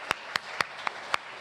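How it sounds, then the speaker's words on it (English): Five sharp, separate hand claps ring out at an even, unhurried pace, fairly faint against a quiet room at a community gathering. "let's give another round of applause to them"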